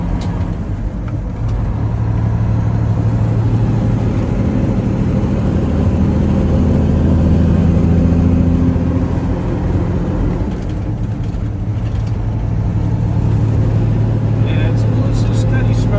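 A 730hp Detroit diesel truck engine pulls under load on a road drive, a steady loud low drone that rises slightly and holds throughout, with people talking over it.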